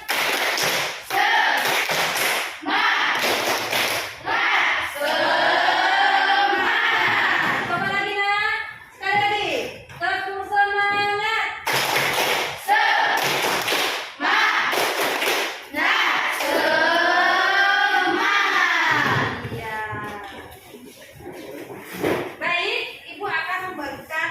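Schoolchildren in a classroom performing the 'tepuk semangat' clapping chant, sharp rhythmic bursts of claps alternating with loud sung chanting voices, repeated in patterned phrases, close and lively.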